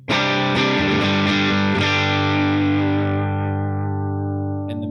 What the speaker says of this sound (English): here's the sound of a cranked super reverb